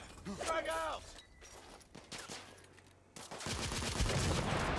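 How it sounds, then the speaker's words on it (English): A grenade goes off in The Order: 1886 video game during a firefight, a sudden loud broadband blast with a sustained rumbling roar after a voice speaks briefly at the start. "Let's throw a grenade in there."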